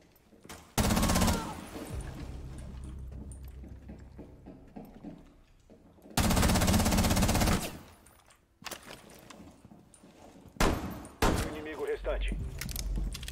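Rapid automatic gunfire from the operator Twitch's weapon in Rainbow Six Siege, loud sustained bursts repeating several times with short gaps, mixed with game noise and excited voices talking.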